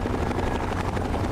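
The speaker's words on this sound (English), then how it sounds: "Why is there a helicopter going on around here?" A helicopter flies in Fallout: A Tale of Two Wastelands, its rotor producing a loud, steady, rapid chopping thud that fills the short stretch without any talking.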